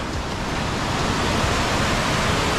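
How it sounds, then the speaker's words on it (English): Fast-flowing Dartmoor river waterfall spilling over its edge in flood, a loud, dense, continuous rushing roar of water, close to the microphone and unbroken throughout. "So that's the normal waterfall and then it's spilling over that side"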